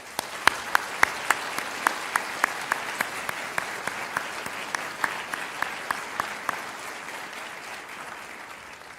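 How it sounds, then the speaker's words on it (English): An audience at a medical school white coat ceremony applauds steadily, with sharp individual claps standing out over a dense wash of clapping that holds throughout. "Let's recognize that support with a round of applause."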